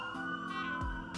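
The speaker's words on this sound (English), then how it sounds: "pardon the sirens going up street" A siren wails steadily in the background from a major street, a sustained electronic tone with a low rumble of traffic underneath, moderately distant.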